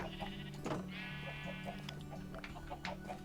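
A Minecraft sheep lets out a wavering, nasal bleat near the middle, clear and fairly close, over a quiet ambient backdrop with faint clicks.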